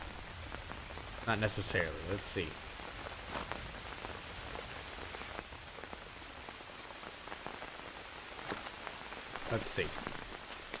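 Steady rain hissing down in the jungle survival game Green Hell, a soft continuous wash at moderate level with someone talking briefly over it.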